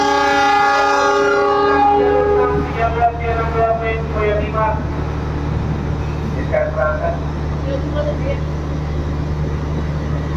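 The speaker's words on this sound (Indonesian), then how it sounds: "Oke, kereta api Taksaka berangkat kembali." The Taksaka passenger train pulls out of Jatinegara station, opening with a loud multi-tone horn blast, then deep steady engine rumble, rolling wagon noise and a few short squeals as it moves off.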